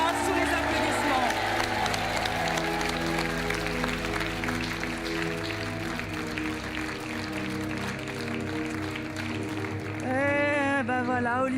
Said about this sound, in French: On vous laisse repartir Merci. par là, sous les applaudissements.